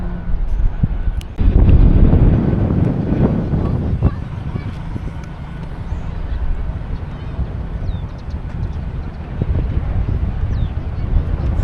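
Strong wind gusts across an outdoor microphone on a first day in Taiwan, a loud buffeting roar near the start that settles into a steady lower rush, with faint voices underneath.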